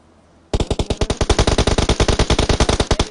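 Rapid automatic gunfire in a PUBG match on the Erangel map, a sustained burst of evenly spaced loud shots beginning abruptly after a brief quiet moment and continuing to the end.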